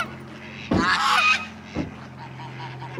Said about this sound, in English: You're trying to feed the ducks like the ducks?